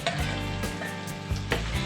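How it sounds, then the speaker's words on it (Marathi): Black dry pea masala paste hits hot oil and sautés over a lowered flame, producing a brief, close, busy sizzle with stirring scrapes and soft pops. "त्याच्यामध्ये जो हा वाटण टाकला आहे तो आपण टाकून घेऊया"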